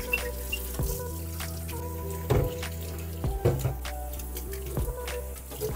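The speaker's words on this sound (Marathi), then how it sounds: "आधी मी फ्रीझरचे सगळे खण घासायला घेतलेत" Freezer trays being scrubbed with dish soap and water in a kitchen sink, steady running water with scattered knocks and clatters of the plastic trays, fairly quiet and close.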